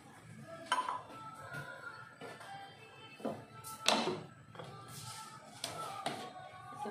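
A cooking pot and metal utensils clink and knock softly in a kitchen while oil heats, several scattered light taps and clatters with no talking.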